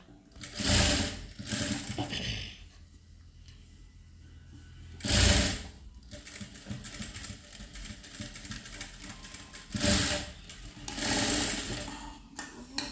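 Overlock sewing machine running in several bursts to lock the fabric edges of a school uniform coat, a fast mechanical whirring that starts and stops repeatedly, with quieter handling noise in between.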